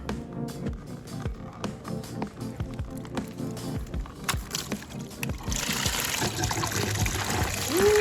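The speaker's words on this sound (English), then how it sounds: "It's dumping. There you go, there's all your coolant." Coolant pours out of a detached hose on a 2007 Suzuki GSX-R 600 motorcycle, a steady trickling, splashing stream into a container, growing broader and louder toward the end, with some clinks of handling throughout.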